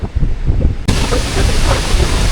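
Strong wind roars near a large Icelandic waterfall, a loud, dense rush of buffeting noise against the microphone that surges sharply partway through and stays heavy to the end.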